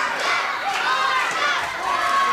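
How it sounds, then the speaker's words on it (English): A packed standing-room crowd at an EPW wrestling show roars and cheers loudly and continuously, with excited shouts and yells rising and falling throughout. "Oh, look at the crowd go crazy here."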